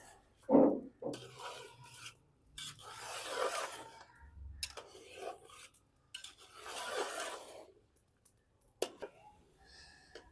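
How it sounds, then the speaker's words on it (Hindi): Spoon stirring and roasting carrot halwa with desi ghee in a pan, heard as intermittent close scraping and rasping strokes against the metal, in uneven bursts separated by brief quiet gaps. "देसी घी डालने के बाद अच्छे से हम इसको मिक्स करेंगे और इसको भून लेंगे"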